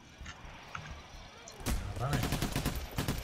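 Rapid bursts of gunfire from a cooperative heist shooter game, sparse at first and then a dense, loud volley of repeated shots in the second half, with a faint voice early on.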